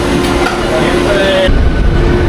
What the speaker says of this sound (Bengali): হাওড়া থেকে আমাদের ট্রেন সাঁতরাগাছি থেকে এসে দাঁড়ালো।